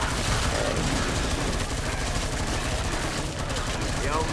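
Stoner 63A light machine gun blasting in the zombie shooter Killing Floor 2, dense continuous loud automatic fire mixed with game noise, with a voice talking over it.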